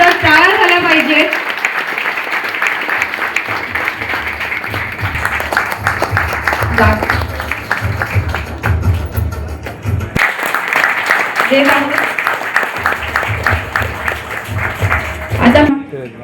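Audience applauding at a police event where stolen cash and gold jewellery are handed back to their owners, with steady clapping through most of the stretch, a short lull near the middle, and a loudspeaker voice over the top.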